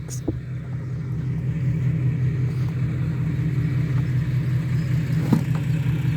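A car engine idles in a low, steady rumble after starting, holding close and even throughout, with a few faint knocks and light rain-like background noise.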